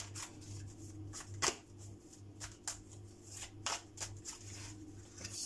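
Tarot cards being shuffled by hand in a quiet room: soft, close riffling and slapping in irregular bursts over a faint low hum.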